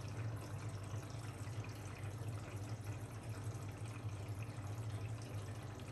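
A Blomberg washing machine fills with water at low water pressure, a steady, moderately quiet rush of incoming water that runs on without a break and has no talk over it.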